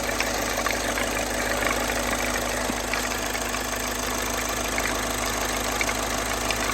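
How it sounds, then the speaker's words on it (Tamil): A Skoda Rapid car engine idles steadily just after starting, a continuous even hum with a faint knocking texture, close by and with no voices. "என்ஜின் ஸ்டார்ட் பண்ணி அந்த வைப்ரேஷன் சவுண்டு பார்க்கும்போது நார்மலாக தெரியுது"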